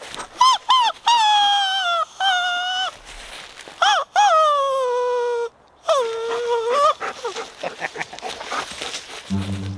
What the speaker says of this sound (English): I just attracted a dog.